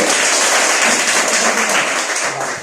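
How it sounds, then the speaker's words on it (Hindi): Loud, dense applause from a large audience fills the whole stretch, a steady wash of clapping that tapers slightly toward the end. "जोरदार ताली के लिए।"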